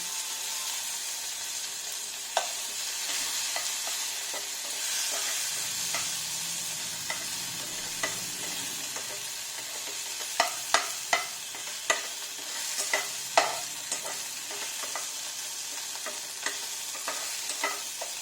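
Chopped tomato fries in a pan for a vegetarian pumpkin dish, a soft steady sizzle under repeated sharp clicks and scrapes of a spoon stirring against the pan, growing busier toward the end.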